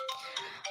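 A phone ringtone or notification chimes softly in a quiet room, three short repeating tonal pulses over less than a second.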